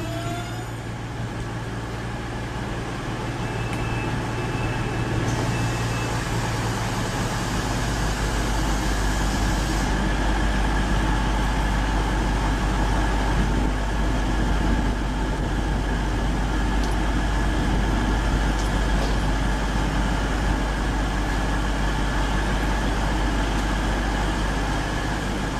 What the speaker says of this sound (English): That's it, I'm on the train.